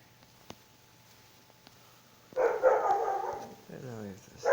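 Dog barking indoors from a short distance, a burst of loud barks in the second half that overlaps a person talking nearby.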